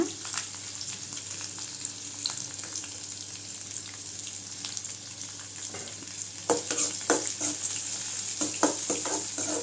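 Dried chilli and garlic sautéing in oil in a pan for carrot rice, a steady close sizzle with occasional stirring clicks that grow busier and louder toward the end.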